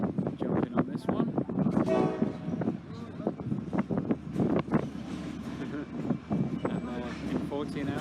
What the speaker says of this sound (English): here comes the train that's going to take us to Turkestan